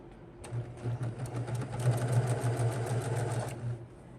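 A sewing machine stitches blue hexagon quilt pieces in a rapid, even run of about three seconds, a close, rhythmic mechanical whir that starts and stops abruptly, with no voices.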